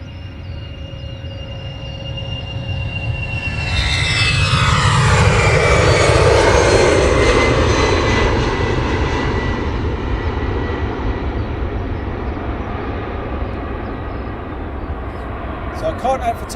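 An EasyJet airliner passes near London Luton Airport, its engine roar swelling to a loud broad rumble with a falling whine and then slowly receding, while a person talks in the open air.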